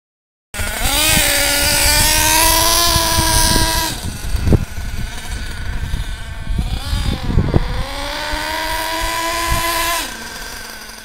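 A Traxxas Savage X 4.6 nitro RC truck engine screams at full throttle with a steady, loud, high-pitched whine, dropping briefly and revving back up several times before falling off near the end.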